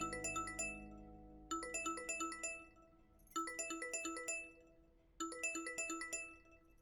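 A phone ringtone repeats as four bursts of bright, chiming, bell-like notes, each rapid jingling phrase followed by a short pause, clear and close with no voices.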